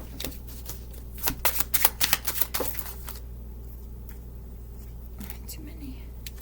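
A handmade card deck being shuffled: a quick run of riffling, flicking bursts in the first few seconds, then quieter rustling with a steady low hum underneath.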